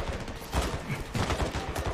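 Sustained automatic gunfire in Call of Duty: Modern Warfare 2 campaign combat, dense rapid bursts of shots with booming low thumps, loud and continuous throughout.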